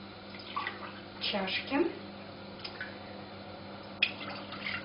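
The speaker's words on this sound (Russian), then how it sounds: "и выливаем их в кастрюлю, либо в чайник, как вам больше удобно" Water is poured from cups into a pot, giving splashy, trickling bursts that come and go while someone speaks over them.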